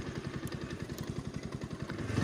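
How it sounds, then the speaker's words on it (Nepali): A motorcycle on an off-road mountain trail gives a close, pulsing engine putter with regular low thumps, growing slightly louder toward the end as it approaches. "नभन्दै बाइक आइदिरहेको"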